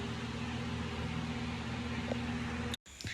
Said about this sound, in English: The fan was a little too loud